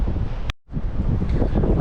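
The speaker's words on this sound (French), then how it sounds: "c'est surtout le vent. Il y a un fort vent d'est." A strong east wind buffets the microphone during a mountain climb on Nuku Hiva in the Marquesas, giving a steady, close roar that cuts out briefly in the middle before resuming, with no talking.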